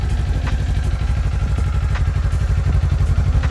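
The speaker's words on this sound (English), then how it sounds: "you don't get a motorcycle for a quiet exhaust" A Kawasaki Ninja 400 KRT motorcycle idles on its stock OEM exhaust, giving a steady, close, chunky low pulsing rumble with faint clatter and a few light throttle blips, and no talk over it.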